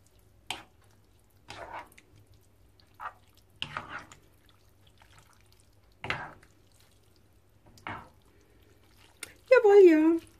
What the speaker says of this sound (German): Ich werde gleich vornherein noch einen Schluck Wasser dran geben.